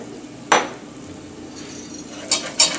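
A metal whisk and utensils clink against a pan holding onions and garlic. There are a few sharp, bright taps, one early and a quick pair near the end, over a quiet kitchen background.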